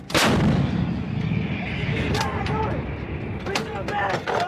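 A U.S. Marine M777 towed 155mm howitzer fires a live round, a sharp, heavy blast at the start that booms and rumbles away outdoors, followed by faint shouted commands and metallic clanks.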